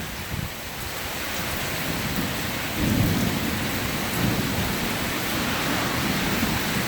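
Heavy thunderstorm pours rain onto a flooded carport, a loud steady hiss of downpour with low thunder rumbles swelling twice beneath it.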